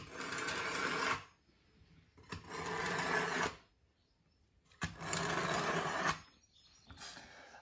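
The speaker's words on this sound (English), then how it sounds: "just put a little weight on your hand, not a lot, and the wheels guide it through" A knife is pulled through a Chef'sChoice 4643 Diamond Hone manual sharpener in four steady grinding strokes, each about a second long with short pauses between, close and fairly loud.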